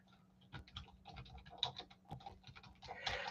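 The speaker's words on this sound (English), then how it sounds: "So let me type this in here." Quiet keystrokes on a computer keyboard while a website name is entered, a quick irregular patter of close, faint clicks over a low steady hum, with no speech.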